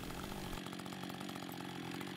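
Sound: chainsaw running while felling a tree

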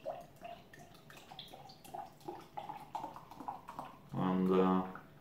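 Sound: pouring hand-filled Dunkel beer from bottle into glass

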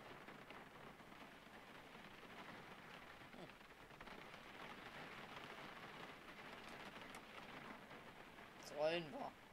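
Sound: storm and rain outside in video game Gold Rush

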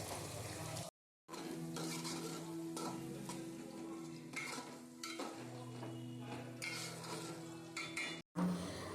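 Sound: onions frying in oil with salt, stirred

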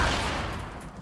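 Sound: gunfire in Fortnite Battle Royale video game

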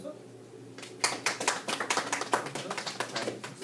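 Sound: audience applause at a seminar

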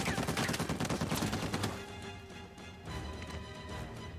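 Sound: gunfire from the video game Uncharted 4

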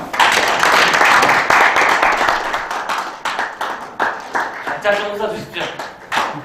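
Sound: audience applause at a signing ceremony

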